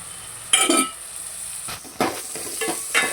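A spoon stirs salted tomatoes frying in a pan, giving a few scraping strokes over a steady sizzle with no talking.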